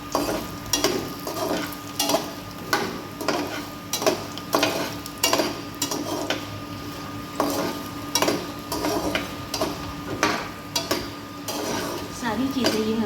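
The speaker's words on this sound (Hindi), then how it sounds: "अब हम ये सारे मखाने ये फ्राई कर लेंगे" Makhana (fox nuts) being fried in a pan for coconut methi laddu, with a steady sizzle under repeated sharp scraping and stirring clinks of a spoon against the pan, close and regular.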